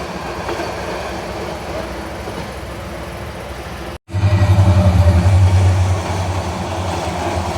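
Cox's Bazar Express passing at night, a loud rushing roar with heavy low rumble and rhythmic rail clatter after a sudden burst, heard from aboard the moving Chattogram Mail train.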